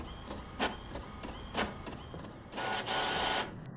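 A printer runs in the horror video game The Mortuary Assistant. It makes a string of soft mechanical clicks and pulses, then a longer, louder whirring burst near the end, fairly faint overall.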